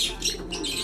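A blue bar white flight pigeon gives a short, soft coo nearby, lasting under a second against a faint background.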